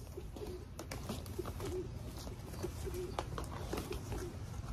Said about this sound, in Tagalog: Gandang ibon.